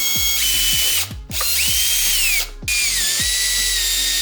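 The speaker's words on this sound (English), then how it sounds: "drilled it for mounting holes." A power drill bores mounting holes in a 3D printed plastic lighting array, loud and close, whining in two long runs with short pauses between, pitch sagging under load, with ratcheting clicks.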